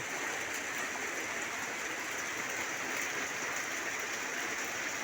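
Steady rain falls outdoors in Thailand, a constant soft hiss that never lets up over several seconds, with no voices.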